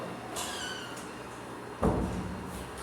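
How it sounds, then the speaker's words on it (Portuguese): A door is shut indoors, a faint squeak of its movement followed by a single solid thud of it closing, then quiet room tone. "Vou deixar aqui a porta para não fazer barulho."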